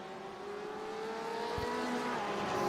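BMW and Porsche GT race cars in a racing video game, their engines holding a steady rising whine with a brief low thump midway.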